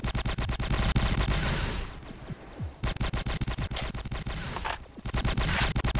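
Rapid gunfire from a Holdfast-style multiplayer battle game, a dense near stream of musket shots and volleys crackling steadily across the whole stretch with only a brief lull midway.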